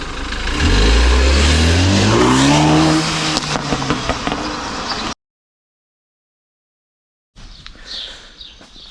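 A BMW F30 328i engine roars loudly, revving up as the car accelerates away, then cuts off into silence before fainter noise returns.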